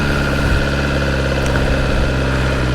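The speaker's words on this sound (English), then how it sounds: "Now let's start the bike up." A motorcycle engine running steadily at idle in neutral, a constant close rumble with a low, even throb and no breaks.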